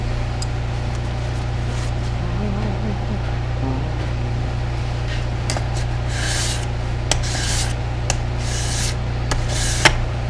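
A Stanley No. 4 Type 20 hand plane iron is rubbed back and forth on the 1000 grit side of a whetstone, a steady close scraping hiss over a low hum, with a few sharper scrapes near the end.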